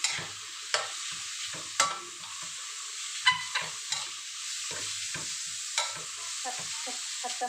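Minced pork and glass noodles being stir-fried in a pan, with a continuous sizzle broken by repeated sharp scrapes and clacks of the spatula against the pan, close and alone with no talk.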